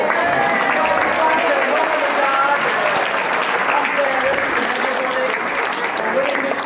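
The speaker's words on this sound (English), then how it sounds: "So thank you for another round of applause." A crowd applauds steadily at the close of a local event, dense even clapping sustained throughout at close range.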